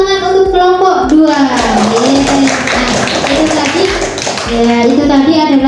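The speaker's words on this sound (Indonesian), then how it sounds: "kita beri tepuk tangan untuk kelompok 2" Children in a classroom clap for a group after a hand-puppet role play, a quick rhythmic patter of many small hands with a sung or chanted voice running over it.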